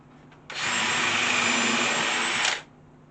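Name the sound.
power drill countersinking holes in garden side boards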